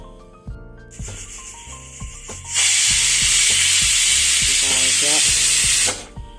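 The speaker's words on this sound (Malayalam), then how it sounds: "ഒരു വിസിൽ വന്നിട്ടുണ്ട് നമുക്കിത് തീ ഓഫ് ചെയ്യാം" A pressure cooker whistle releases a loud, steady hiss of steam for several seconds while cooking bitter gourd curry, after soft background music plays alone.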